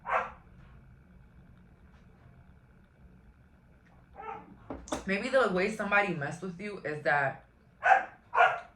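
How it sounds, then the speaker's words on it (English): A dog barks in short bursts at the start and end, with someone talking in between. "I'm so sorry for the barking though."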